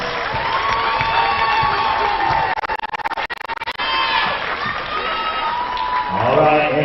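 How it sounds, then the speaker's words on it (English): A crowd at a Pensacola State College basketball game applauds and cheers the 2025 homecoming court, sustained clapping with whoops and shouting voices throughout and a brief choppy dip midway. "please give it up for your 2025 PSC Homecoming Court."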